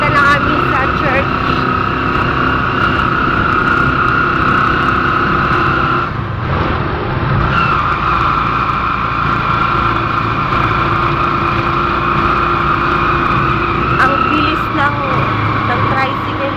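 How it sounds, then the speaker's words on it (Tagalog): A tricycle's small motor engine droning steadily throughout an early-morning ride to church in the Philippines, loud and close, with passing traffic rumble and a brief dip midway. "Nakasakay na kami sa tricycle guys"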